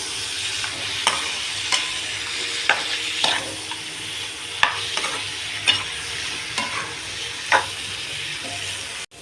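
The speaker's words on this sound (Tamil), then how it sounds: "நல்லா கிளறி விட்டுக்கோங்க" Mutton head curry is stirred in a pan with a spoon, giving repeated scraping strokes over a steady background sizzle of frying, close and fairly loud with no talking.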